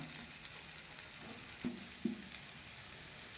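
Spicy brinjal shallow frying in a pan, a quiet, steady sizzle with a couple of soft utensil knocks partway through, close and with no talking.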